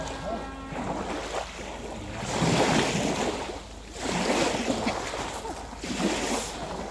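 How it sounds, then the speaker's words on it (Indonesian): Large waves on the Sea of Galilee surge and wash in repeated swells, with steady wind noise buffeting the microphone throughout. "Ombaknya besar sekali."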